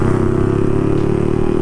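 A motorcycle engine drones loud and close with a steady, throbbing pitch, as if riding along at constant speed.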